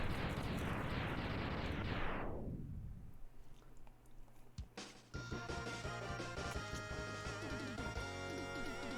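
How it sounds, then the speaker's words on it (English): In Mega Man X, a loud, dense burst of explosions in the video game roars for a couple of seconds and then fades out. Sparse crackles follow before game music picks up. "Still not looking at explosions."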